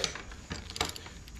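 A 21mm half-inch drive ratchet working loose an eBike motor retaining nut, giving quick faint clicking pawl sounds in short bursts, close and quiet.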